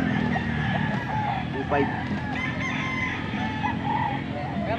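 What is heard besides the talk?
rooster crowing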